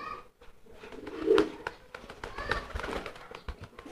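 A fantail pigeon coos loudly and close by in a low, rolling courting call, with some rustling and background noise around it.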